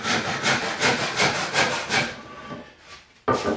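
A handsaw cross-cuts a wooden board in a woodworking shop, loud rhythmic push-pull strokes about three per second, slowing and stopping before one last stroke.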